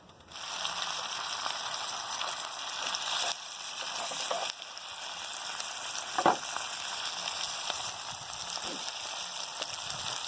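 Steady crackling sizzle of salted fish frying in hot oil, continuous and close, with an occasional clink or stir.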